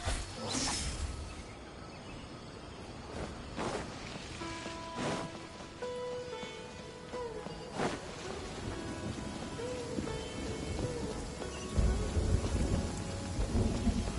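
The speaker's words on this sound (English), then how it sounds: "Quite a downpour. Nothing will get done until it clears." Heavy rain pours steadily in Genshin Impact, a constant hiss of downpour broken by several sharp thunder cracks and rumbles, with a low surge of rain toward the close.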